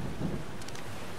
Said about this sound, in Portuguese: A chuva não está parando.